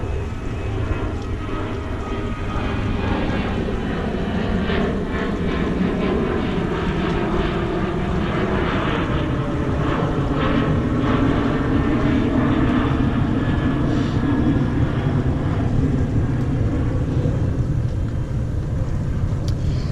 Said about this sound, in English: an airplane's going over